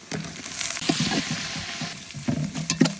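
Onions, mint, coriander and green chilies fry in oil with a constant crackling sizzle, close and loud, with soft stirring knocks scattered through it and no voices.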